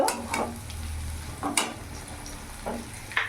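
Onions with green chillies fry in a pan, a soft steady sizzle broken by several scraping stirs of a spatula, close and without talk.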